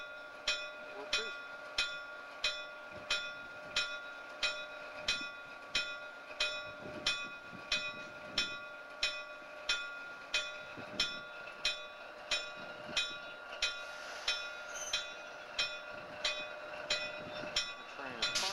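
Coal rail cars moving on a rail system, with a steady rhythmic clicking beat and a sustained tonal hum over low rumble, at moderate loudness with faint voices now and then.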